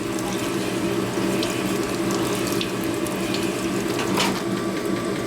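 A coarse stone hone works inside the engine cylinder of a 1977 Harley-Davidson XLCR 1000cc Ironhead Sportster during a rebuild, producing a continuous gritty, whirring scrape with a faint metallic ratcheting texture that holds steady throughout.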